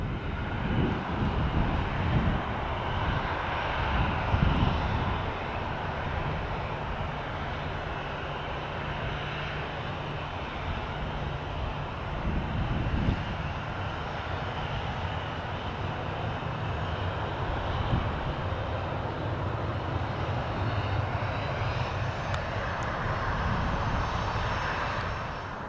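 An airplane engine roars at Dublin Airport in Ireland, a broad, steady rumble that holds for nearly half a minute with wind buffeting the microphone and no voices.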